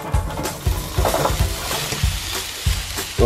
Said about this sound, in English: We're gonna throw our stir fry in.